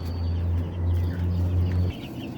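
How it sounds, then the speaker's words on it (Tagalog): Chickens cluck steadily over a loud, continuous low hum, with soft scattered bird calls in the background. "Magpapakain tayo ngayon ng ating mga alagang mga manok"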